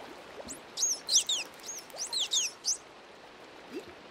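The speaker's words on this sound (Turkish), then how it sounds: "Kuş gibi bunlar da ötüyor ha." Aquarium animals in a Minecraft world chirping like birds: quick, high, whistly tweets in two bursts of several calls each, fairly clear over a soft steady background hiss, with no talk.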